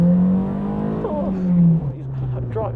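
A race car on a track hums steadily from inside the cockpit with shifting engine pitch, while voices talk over the motor.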